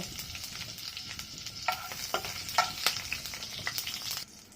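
Cumin and black cumin seeds hit hot oil in a pan where chillies are already frying, for a water lily stem chochchori. A close, crackling sizzle carries scattered sharp pops and spits throughout, then cuts off abruptly near the end.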